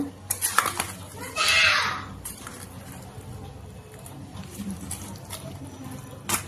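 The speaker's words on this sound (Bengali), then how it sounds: "এখন এটাকে মিক্স করব।" Chopped onion, green chili, garlic paste and onion paste are mixed together in a metal bowl, giving clinks and scraping clatter of a utensil, with a brief rushing burst and someone talking at moments.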